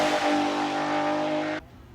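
Honda NSX Super GT race car engine, rated over 650 horsepower, sounds as a loud, steady, buzzing roar with a strong harmonic whine that holds for about a second and a half, then cuts off abruptly to a quiet hum.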